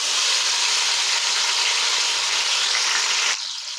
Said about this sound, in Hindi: अब हम इसमें डालेंगे 2 मीडियम साइज के कटे हुए टमाटर